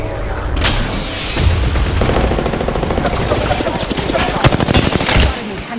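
Loud gunfire in the Apex Legends battle royale game, bursts of rapid automatic fire with heavy booming impacts stacked in dense, continuous volleys at close range.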